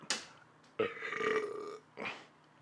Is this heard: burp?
yes